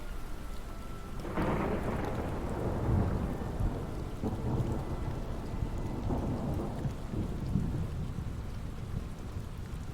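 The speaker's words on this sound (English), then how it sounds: "As the thunder rolls off" Thunder rolls through a storm, a deep rumble swelling early then slowly fading, over steady rain pattering throughout.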